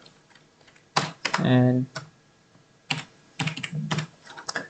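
Java code goes in on a computer keyboard as bursts of close, quick key clicks, with someone speaking briefly among them.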